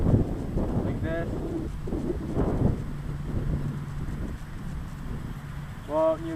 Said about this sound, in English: Yeah, definitely hard to fly in this wind.